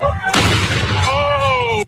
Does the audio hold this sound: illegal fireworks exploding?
yes